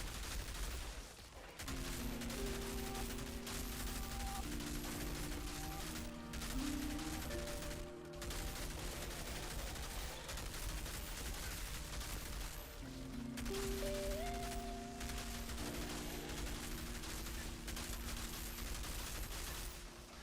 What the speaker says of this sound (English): I'm accidentally using the pistols.